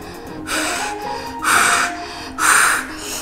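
Heavy, forceful breathing during a plank exercise, three loud close exhales in a steady rhythm about a second apart, with quieter breaths between.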